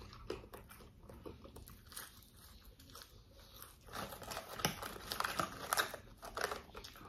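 Eating McDonald's chicken nuggets and fries from a Happy Meal, with close, irregular crunchy bites, chewing and crinkling of packaging throughout, growing louder and busier in the second half.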